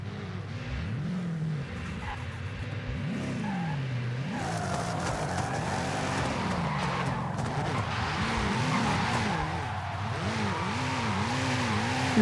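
A BMW M8 drifts in Forza Horizon 5, tires squealing in long wavering pitched sweeps over a steady engine roar, close and loud and continuous, with no talking.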